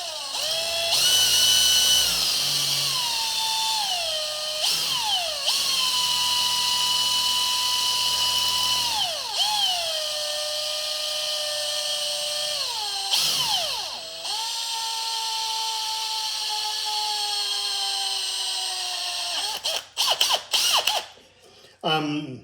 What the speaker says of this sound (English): I'm going to put the drill bit on there, and I'm going to hold it